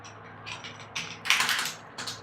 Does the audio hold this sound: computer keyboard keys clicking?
yes